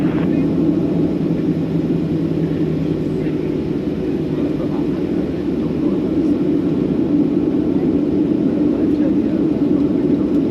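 An airliner taking off from a Boston runway gives a loud, steady, low engine roar that fills the whole clip, with voices talking over it.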